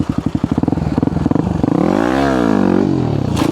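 Motorcycle idling with a rapid chugging pulse, then revving hard to a high pitch and easing back, loud and close during stationary wheelie practice with the clutch being released, no voices.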